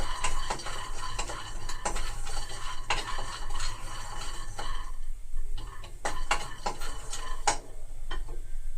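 Peanuts frying in a pan, a crackly sizzle with repeated clinks and scrapes as they are stirred, fairly close and loud, with no one talking.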